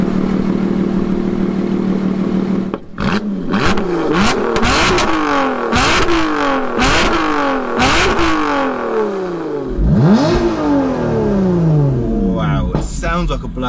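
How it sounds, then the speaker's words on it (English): A supercharged Lotus Exige engine revs hard several times in quick succession, each blip rising and falling sharply, loud and close with a raspy open exhaust. "Just give it a quick little rev for us."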